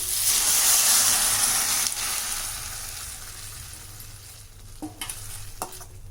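Boiled potato and chana dal are stirred into a fried tomato and onion mixture, giving a loud wet sizzle that fades gradually, followed by a few scraping clinks of a spoon against the pan.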